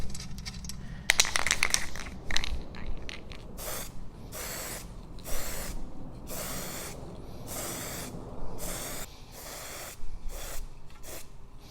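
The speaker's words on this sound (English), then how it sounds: "we'll get a squirt of paint on that, just to stop it going rusty" An aerosol can sprays paint onto bare metal on a Maserati Mistral under restoration to stop rust. About a dozen short hissing bursts are spaced a second or so apart, with rubbing and handling noises between them, close up and with no talking.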